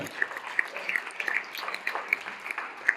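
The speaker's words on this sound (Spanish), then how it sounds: "Dale un aplauso a nuestro Dios" A church congregation applauds, a soft, scattered patter of hands clapping at a distance with no voices over it.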